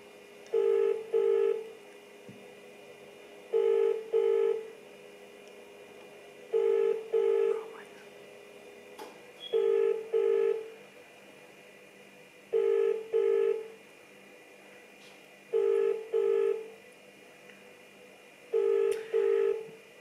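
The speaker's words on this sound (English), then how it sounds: "Okay, it's ringing." A phone call's ringback tone in a late-night call repeats as evenly spaced double rings, about every three seconds, steady and clear over a faint background hum.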